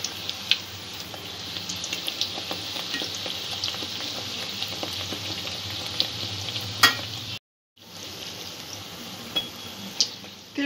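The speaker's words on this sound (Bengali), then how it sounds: "তেলটা একটু গরম হওয়া অবস্থাতে ভাতুরাটা ছাড়তে হবে আর 2 পিঠ লাইট ব্রাউন করে ভেজে নিতে হবে।" Bhatura dough frying in hot oil for chole bhature, a steady bright sizzle and crackle running for about ten seconds with a brief silent gap midway, close and alone without talk.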